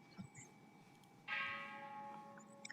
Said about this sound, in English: This bell you hear, you don't have to worry about it.